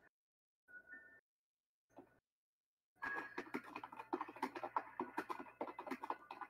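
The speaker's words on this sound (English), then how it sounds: "That's a typing." Rapid computer keyboard typing clatters in dense bursts after a few short electronic tones and quiet gaps, sounding fairly close and clear, with no talking over it.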